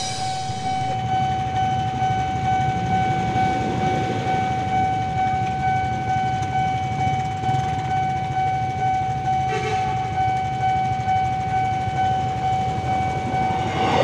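An airport train bound from Manggarai to Soekarno-Hatta airport passes close by with a loud, sustained rumble and steady high whine that fills the whole stretch, with no voices.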